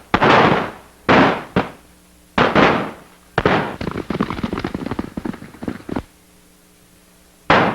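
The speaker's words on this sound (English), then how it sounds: "Bandits are shooting up the town." Loud sharp bangs from bandits shooting up a town go off one after another, with a dense rapid stretch of overlapping cracks in the middle, like close gunfire echoing.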